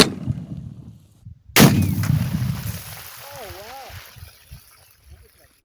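A 20mm Lahti anti-tank rifle fires one booming shot at a whisky barrel outdoors, a sudden loud blast after near silence followed by a long rolling echo that fades over several seconds, with faint voices afterward.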